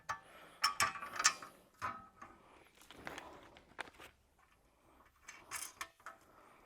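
A ratchet tightens a bolt during a 2024 Jeep JLU accessory install, giving close, irregular bursts of metallic clicking with brief pauses between strokes and no voices.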